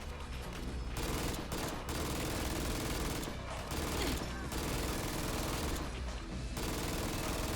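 Sustained automatic fire from an MG3 medium machine gun in Fallout 4, long continuous bursts with brief pauses between them, loud and dense throughout.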